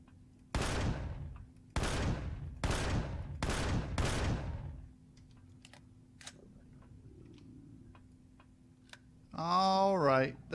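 Gunfire from shooting aliens in the video game Empyrion: four loud, evenly spaced shots ring out close by, then a quiet stretch, ending in a warbling, wavering cry.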